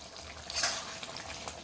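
Papaya dalna with ghee being stirred in a pan, a soft sizzle with a brief scraping swell of the spoon and small clicks, close and with no voice.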